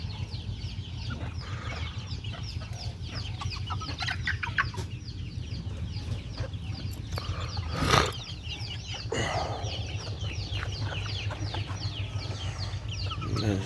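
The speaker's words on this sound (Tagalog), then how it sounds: "Ito si Digong kasi tingnan nyo ng yung itlog niya" Farm chickens cluck and chatter continuously, with bursts of wing flapping and one louder flurry midway, close by over a steady outdoor background.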